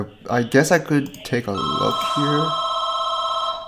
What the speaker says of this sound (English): sorry for the phone going